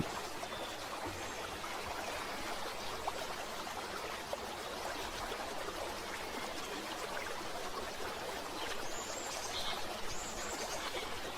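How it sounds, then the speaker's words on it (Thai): A cool stream flows steadily with a soft, constant rush of water and faint trickling, unbroken for the whole stretch, with no voices. "ที่มีลำธารน้ำเย็นไหลผ่าน"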